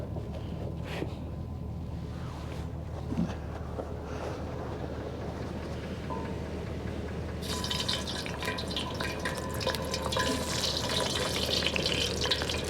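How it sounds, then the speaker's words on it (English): French fries sizzle and crackle steadily in hot oil outdoors on a lake, the frying growing brighter and louder partway through, with occasional pops. "we got some fries frying"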